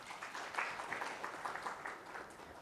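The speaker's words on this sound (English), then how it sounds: "Ladies and gentlemen, let's give them a warm round of applause" An audience at a mobility summit panel discussion applauds to welcome the panelists, a soft, fairly distant patter of many hands clapping with a gentle pulsing rhythm, steady throughout.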